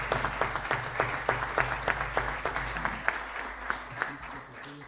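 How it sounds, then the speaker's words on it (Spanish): An audience at an award ceremony claps for the winners. The clapping is steady and moderately loud, a dense patter of hands with some individual claps standing out, and it fades slightly toward the end. "yo pediría un aplauso por los premiados"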